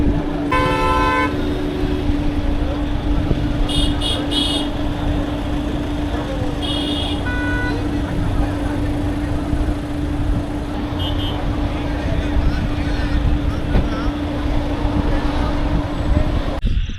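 Heavy weekend traffic jam on the road to Srisailam: a constant rumble of idling and crawling engines, with several car and bus horns honking in short blasts, a few overlapping, near and loud.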